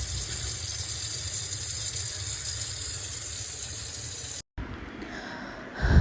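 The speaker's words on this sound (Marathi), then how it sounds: "मी नळ सुरू ठेवलेलं आहे" Steady rushing of tap water pouring into a basin, continuous and close, briefly cutting out near the end before resuming.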